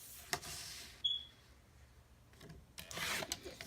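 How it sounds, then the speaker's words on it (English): Paper being cut into strips gives soft rubbing and rasping strokes, a short bright snip near the start and a louder scraping pass toward the end, all fairly quiet and close. "I'm going to cut them into 3-inch strips"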